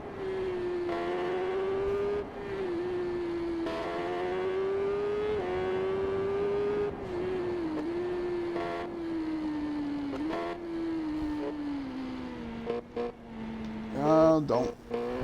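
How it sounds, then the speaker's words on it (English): A supersport motorcycle races in the video game TT Isle of Man 3, its high engine whine rising and falling through gear changes across the clip. It sounds loud and continuous, then turns choppy near the end. "If you're not used to motorcycle racing games, they are a lot more difficult than auto racing"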